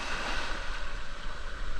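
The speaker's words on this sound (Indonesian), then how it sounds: "Tuh, ombaknya kencang banget." Strong ocean waves crash and surge at the foot of the Apparalang cliffs, a continuous, loud, close roar of breaking surf mixed with wind, with no pauses and no voices.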